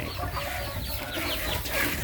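A farm chicken with a gut infection clucks softly and repeatedly over a brief stretch, close by amid low background noise.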